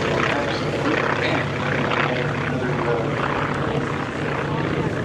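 Warbird aircraft flying over in formation at the EAA AirVenture airshow, a loud sustained propeller-engine roar that holds steady throughout.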